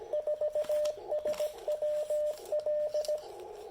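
Morse code CW tones from an Icom IC-705 radio, a clear steady beep keyed in quick dots and dashes, close and alone over faint background.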